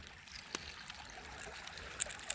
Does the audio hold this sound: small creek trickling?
yes